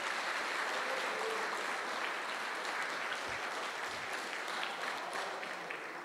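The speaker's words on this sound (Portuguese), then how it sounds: "Uma salva de palmas para Jesus Cristo" A church congregation gives a sustained round of applause during a worship service, a dense steady wash of clapping that carries on for several seconds with no voices over it.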